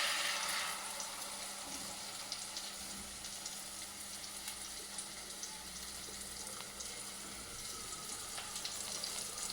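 Oil heating in a hot pan for an omelette, giving a faint, steady hiss of low sizzling with no talk.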